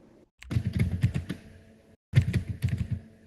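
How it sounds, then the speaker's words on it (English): Clattering keystrokes on a computer keyboard come in two quick bursts of rapid typing separated by a brief pause, close and fairly loud, with no talking. "Somebody is typing and making noise on their computer when they type"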